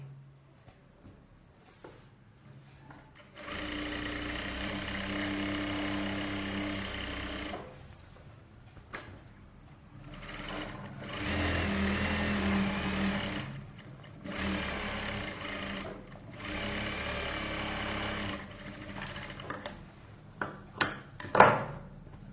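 A sewing machine stitches a blouse in bursts of steady, rapid whirring, stopping and restarting several times. It sounds close and fairly quiet, with clicks and handling noises in the pauses and no one talking.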